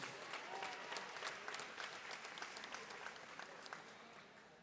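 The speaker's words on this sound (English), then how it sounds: "Let's give a round of applause to all of our cheerleading seniors." Applause fills a high school basketball gym, honoring the senior cheerleaders; a steady, moderately distant wash of clapping from the crowd that thins slightly toward the end.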